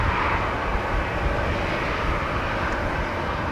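A KLM Boeing 737-800 jet airliner roars steadily at Amsterdam Schiphol Airport on a windy day, a loud continuous broadband engine rumble with wind noise and no talk.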